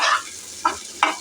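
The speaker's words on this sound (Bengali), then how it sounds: "ভাজি করে নিচ্ছি চিংড়ি মাছটাও" Shrimp with a little onion and green chilli frying in a pan, a sizzling hiss broken by two quick scraping stirs, close and clear.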